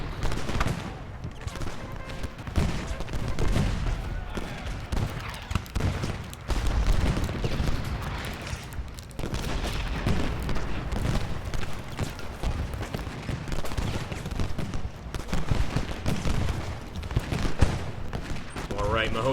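Massed musket volleys rattle across a Gettysburg battlefield in the Ultimate General Gettysburg strategy game, a dense, continuous crackle of overlapping shots with occasional heavier booms, steady and fairly loud throughout.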